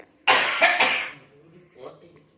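A short burst of two or three harsh coughs, close and loud, fading into a quieter throaty sound.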